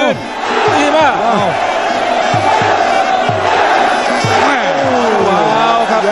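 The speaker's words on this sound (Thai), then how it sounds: "แฟนปรบมือเลยครับปรบมือให้ซีอุย" A Muay Thai fight crowd in a stadium roars and cheers loudly and without a break, with shouting voices and rhythmic applause mixed into the dense crowd noise.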